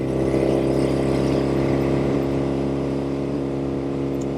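A 1972 Norton 750 Commando Combat motorcycle engine runs steadily in top gear, a loud, continuous throbbing drone with a deep rumble that holds even throughout, without pauses or talk.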